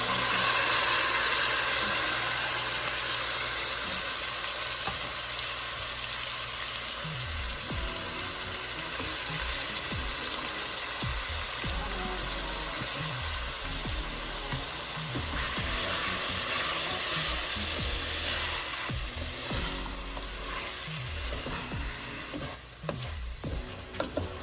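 Food sizzles and fries steadily in orange-tinted oil in a pan, a continuous crackling hiss with scraping stir strokes throughout, stirring growing busier toward the end; no one speaks.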